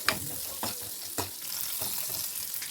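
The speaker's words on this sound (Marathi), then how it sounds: "जे आपण बारीक चिरून घेतलेली लसूण आहे ते टाकून व्यवस्थित आपल्याला परतून घ्यायचे" Chopped garlic, green chilli, onion and capsicum sauté in hot oil for paneer chilli, giving a steady sizzle punctuated by a few quick stirring scrapes.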